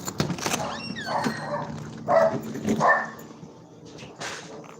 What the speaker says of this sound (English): Y'all excuse my dog, he about to start barking.